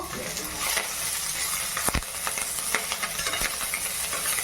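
Green chillies and curry leaves fry in a pan, giving a continuous close sizzle and hiss with a few sharp pops and stirring clinks, heard alone without talk.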